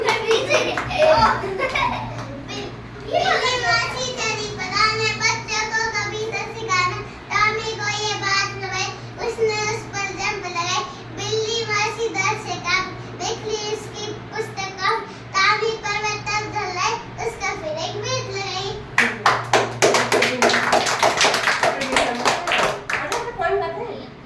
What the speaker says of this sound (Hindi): तालियां बजाओ, तालियां बजाओ